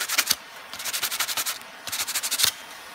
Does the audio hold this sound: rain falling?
no